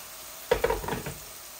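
Beans in a pan sizzle and spit for about half a second right after a little water goes in, then the sound quickly fades back to a quiet hiss.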